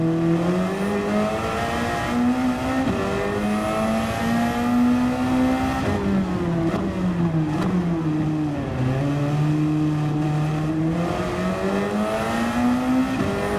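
A small, flimsy-looking race car's engine revs steadily in a racing video game on the Sarthe circuit, its pitch rising and dipping through shifts and corners, loud and continuous without talk.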